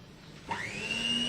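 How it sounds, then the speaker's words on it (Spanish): An electric mixer whirs to life partway through, its motor pitch rising and settling into a steady hum, fairly close. "Vamos a enganchar la batidora"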